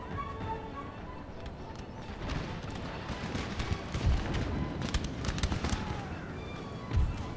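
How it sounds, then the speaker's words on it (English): Puckle guns and cannons firing in an Empire: Total War battle make a dense, crackling clatter of volleys, punctuated by heavier booms around the middle and near the end. "Oh, that's the puckle guns."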